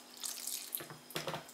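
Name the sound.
pouring milk into curd batter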